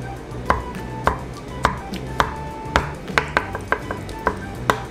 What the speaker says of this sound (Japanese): それでウマヅラハギの肝もねもう切っておきましょう。